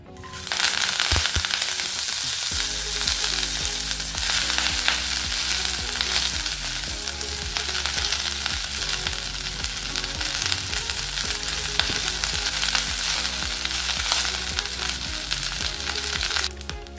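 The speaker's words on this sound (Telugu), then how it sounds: "మనము కరివేపాకును వేసుకొని వేపుకోవాలి" Curry leaves fry in a little oil on the stove with a loud, continuous sizzle and crackle, broken by occasional stirring and popping throughout, no voices.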